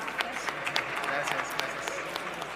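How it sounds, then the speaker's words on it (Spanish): Scattered applause in a legislative chamber session, a light patter of claps spread evenly across the room at moderate distance, with some voices murmuring underneath. "Un aplauso."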